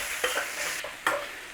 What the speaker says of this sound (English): Just chuck them about in the pan a little bit, you know, turn them over.